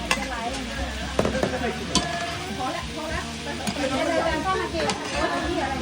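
Chili stir-fried in a pan with spices, an irregular crackling sizzle with scraping stirs and utensil taps, close by, while someone talks over it.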